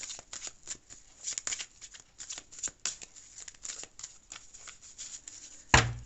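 Tarot cards being shuffled close up for a reading, a run of soft riffling flutters and taps, ending with a louder slap of the deck.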